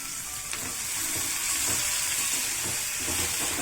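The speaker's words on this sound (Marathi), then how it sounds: "तेल तापले, आता त्यामध्ये आपण कांदा टाकूया." Onion with tomato and bitter gourd frying in hot oil, a soft, continuous sizzle that swells slightly partway through, with faint stirring clicks and no voices.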